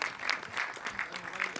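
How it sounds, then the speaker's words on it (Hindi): Applause from the audience at a Mumbai trailer launch event for the film Son of Sardar 2 as Ajay Devgan is welcomed on stage; moderately faint, uneven clapping with a few sharper claps standing out, continuing for a moment with no clear speech. "एक बार जोरदार तालियां।"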